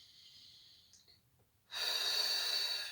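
Loud, deliberate breaths close to the microphone during a Pilates exercise: a soft, airy stretch, a quiet pause, then a strong, long rushing exhale that holds to the end.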